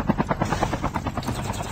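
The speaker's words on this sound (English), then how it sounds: "Landing my little helicopter," Helicopter in Call of Duty Mobile battle royale coming in to land, a loud close rotor chop with rapid rhythmic thumping pulses filling the short stretch.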